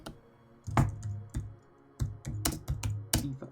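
Fast bursts of clicky keystrokes on a computer keyboard come in irregular clusters, with short pauses between runs, close and fairly quiet with no talk.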